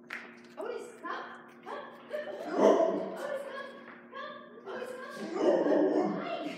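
A Labrador barks in short yips mixed with whimpers and whines, close and fairly loud, continuing through the clip.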